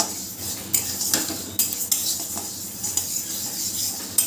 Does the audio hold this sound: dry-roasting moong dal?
yes